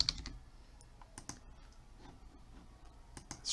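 A computer keyboard being typed on while using Windows Server 2016, a few light, scattered key clicks at an unhurried pace, quiet and close, with no talking.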